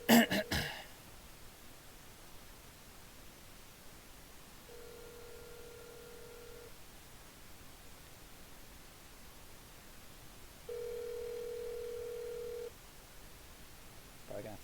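A telephone ringback tone sounds twice during a call, steady electronic bursts about two seconds long separated by a pause, over faint line hiss.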